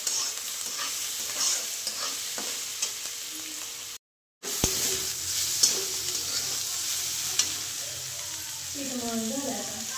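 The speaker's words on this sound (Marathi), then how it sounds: "आता कांदा चांगला लाल भाजून घेते." Chopped onion sizzles steadily as it fries in a pan, a soft continuous crackle with occasional stirring scrapes and clinks, recorded close and fairly quiet, with a brief dropout midway.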